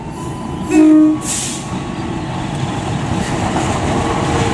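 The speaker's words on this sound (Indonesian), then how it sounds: "Kereta api Sri Tanjung yang saya naiki telah tiba di stasiun Banyuwangi Kota." A train horn blares briefly, then steady rumbling and clatter of the Sri Tanjung passenger train, hauled by a CC 201 locomotive, rolling slowly into Banyuwangi Kota station, loud and close, with no voices.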